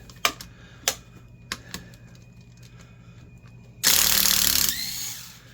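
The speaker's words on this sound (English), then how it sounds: "Pop some of these screws out here." A driver bit works screws loose from a Makita JR series reciprocating saw housing, giving a few sharp separate clicks and ticks, then a loud burst of motor whirr close by, with no talk.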